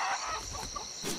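A chicken in the video game Atlas gives a few short clucks, close and fairly loud over a faint steady background tone.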